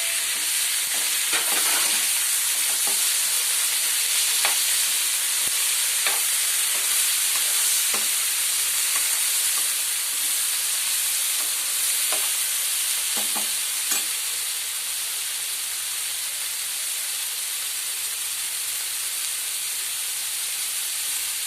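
Onions and tomato fry in a pan for a drumstick-leaf curry, a steady bright sizzle and hiss with occasional stirring scrapes, close and continuous without talk.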